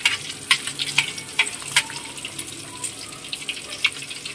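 Thick pork belly liempo fries outdoors, cooking in the sun's heat, with a steady close sizzle and bursts of sharp popping and bubbling crackles.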